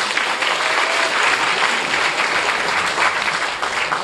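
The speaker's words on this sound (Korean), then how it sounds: "큰 박수 부탁드립니다" Steady, dense applause from a large audience at a business presentation event in a company's Gangnam headquarters, loud and continuous for the whole stretch with no speech over it.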